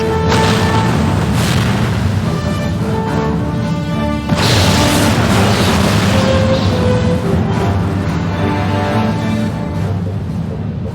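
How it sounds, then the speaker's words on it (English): A loud, sustained explosion blast rolls out as a solar device is destroyed in the Star Trek Bridge Commander space combat game, with a second heavy boom surging in partway through over a continuous rumbling roar. "The solar device has been destroyed, Captain."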